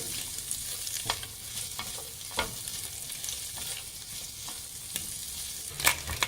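Vegetables salted and frying in a pan for egg noodles are stirred with a utensil, giving a soft continuous sizzle broken by repeated scraping and clinking strokes, close but fairly quiet, with no speech.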